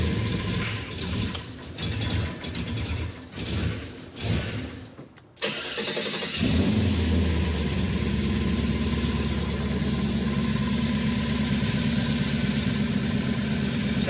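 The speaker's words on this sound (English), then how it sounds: "Sounds like an exhaust leak." Crate engine in a chopped and dropped Ford Model A cranking in rapid bursts, stalling briefly, then catching and settling into a loud rough idle with the sputtering chuff of an exhaust leak.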